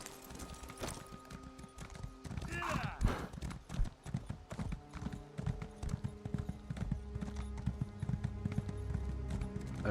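Steady clip-clop of horse hooves trotting at a brisk rhythm in Elder Scrolls Online, with a brief whinny early on and busy game ambience underneath.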